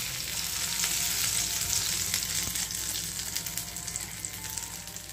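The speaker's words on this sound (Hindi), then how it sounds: "ये जो हमने चटनी तैयार करके रखी है उसमें हम तड़का डाल देंगे।" Hot oil tempering sizzles and crackles steadily as it hits coconut chutney, a close, busy frying hiss that slowly settles.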